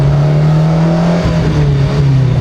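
A Japanese rally car's engine drones loud and close in a steady, throaty hum that wavers slightly in pitch, heard alone without voices.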